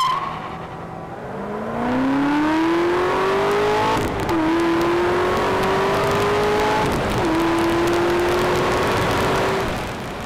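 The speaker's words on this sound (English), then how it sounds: "Check out this video from inside a ZR1 at the Texas Motor Speedway." A Chevrolet Corvette ZR1 with a supercharged V8 accelerating hard on the Texas Motor Speedway, recorded from inside: a loud engine tone rising through the gears in long sweeps, with two brief dips at the shifts, and no talk.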